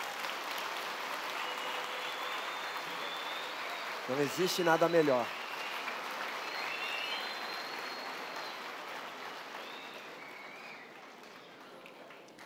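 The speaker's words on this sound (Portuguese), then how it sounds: "Vamos aplaudir a palavra de Deus" A church congregation claps at length, steady applause filling the room, with a short burst of a voice cheering partway through and faint talk continuing as the clapping fades.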